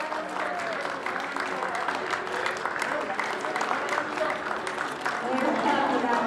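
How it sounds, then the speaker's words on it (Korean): Steady applause from an audience at a public policy announcement event, dense and continuous throughout, swelling slightly near the end, with faint voices mixed in. "박수 한번 부탁드립니다."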